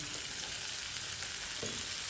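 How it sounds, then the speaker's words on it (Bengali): Fried potatoes tipped into sizzling masala in a pan, a soft, even hiss of frying with one faint stirring knock, quiet and close with no talking. "এবার আমি এই পর্যায়ে ভেজে রাখা আলুগুলোকে দিয়ে দিচ্ছি।"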